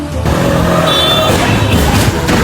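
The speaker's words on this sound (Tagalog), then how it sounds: "Ang ingay ng mga sasakyan" Loud, close road traffic noise with engines revving and a dense rumble of vehicles on a street after a crash involving a car and a tricycle, continuous over the short span.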